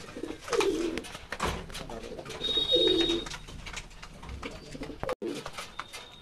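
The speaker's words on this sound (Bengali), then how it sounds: "দেখুন বন্ধুরা কবুতরে এখন খাওয়ার সময় দেখুন" Pigeons at feeding time, their soft repeated cooing mixed with flapping and shuffling in a busy outdoor setting, fairly close and steady, with occasional sharper noises.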